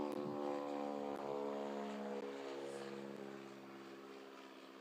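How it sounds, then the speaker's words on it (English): Biplane flying past, its propeller engine drone steady with a harmonic buzz that slowly fades as it moves away, heard at moderate distance with no speech. "yeah, the biplane"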